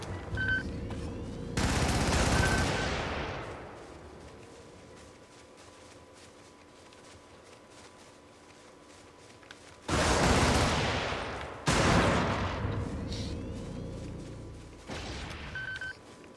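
Video game machine gun fire erupts in a few loud bursts, one near the start and two later on, each rattling for about a second or two between stretches of quieter ambient hum.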